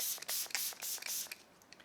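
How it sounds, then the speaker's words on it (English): Setting spray misted onto a face during a makeup application, heard as a close series of short, airy hissing bursts with brief gaps, fading softer toward the end. "let me just go ahead and throw on some setting spray real quick here"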